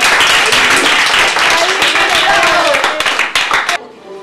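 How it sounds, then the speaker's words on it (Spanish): Applause for contest participants at a Spanish Constitution prize ceremony, a dense burst of many hands clapping loudly for about four seconds before stopping abruptly, with voices mixed in. "vamos a darle un aplauso por haberos venido"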